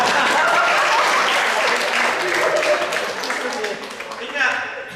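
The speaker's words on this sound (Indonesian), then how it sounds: "Ya, kita berikan tepuk tangan." Audience at a church Valentine's gathering breaking into loud sustained applause, many hands clapping together in a broad wash that gradually thins out toward the end.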